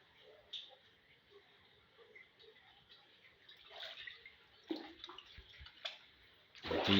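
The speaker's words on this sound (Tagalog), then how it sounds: "Ito yung tubig." Soft water sounds with light splashes and drips, fairly quiet and intermittent, with a brief louder splash near the end.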